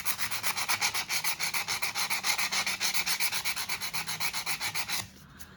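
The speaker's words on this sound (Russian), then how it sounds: "И вот начинаем тереть. Долго. И вот так вот трем" Hand sanding with wet sandpaper, a steady rhythmic back-and-forth rasping scrub repeating about four to five strokes per second, close and loud, stopping abruptly near the end.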